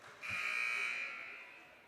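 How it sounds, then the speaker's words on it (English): A girls' basketball game buzzer gives one sustained electronic tone lasting about a second and a half, fairly faint and fading at the end. "Buzzer sounds."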